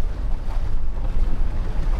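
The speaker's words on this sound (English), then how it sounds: "Rainy and windy." Wind and rain beat on a fishing boat off Alaska during a halibut trip, a steady low rushing roar with gusty swells and no voices.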